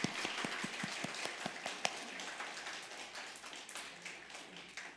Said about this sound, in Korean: 자, 박수로 축하해 주세요.